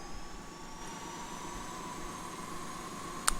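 Jet engine of a C-101 Aviojet spooling up in the DCS flight simulator, a steady broadband whine and roar with thin high tones, continuous and fairly close, with a brief click near the end.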